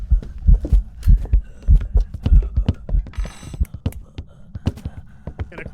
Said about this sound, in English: do you hear the ghost hunting? It should be making its way up.